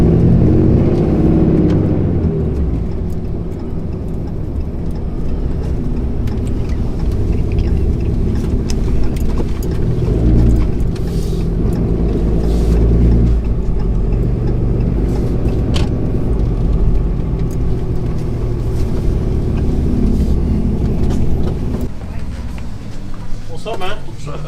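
A Harley-Davidson Road Glide ST rolls into a parking lot, its heavy engine rumbling loud and continuous with a slight rise in revs, while a voice talks over the engine noise throughout.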